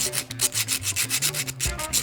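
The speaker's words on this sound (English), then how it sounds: "running my file along that flat edge to take those burrs off" A hand file rasps in steady back-and-forth strokes along the flat edge of a chainsaw chain, taking burrs off the teeth; the scraping is close and loud, with no talk.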